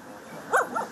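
A homeless woman's dog on a French street gives one short sharp bark and then a fainter second yip, both brief and set against a steady hum of background noise.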